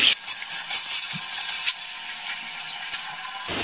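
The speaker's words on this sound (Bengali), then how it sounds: "এবার আলুগুলো ভেজে নিচ্ছি।" Diced potatoes coated in salt and food colouring fry in hot oil for mutton dum biryani, a loud, close, bright sizzle with scattered clicks and ticks that stays steady to the end.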